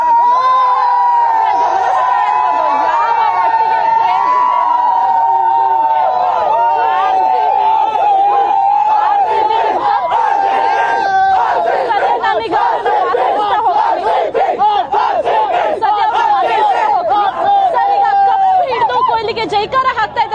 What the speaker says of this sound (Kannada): ಜೈಕಾರ ಹಾಕ್ತಾ ಇದ್ದಾರೆ